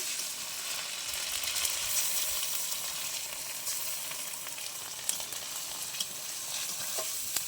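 Spice paste fries and sizzles steadily in a pan for a curd-style catla fish curry, with soft stirring scrapes throughout and no voices.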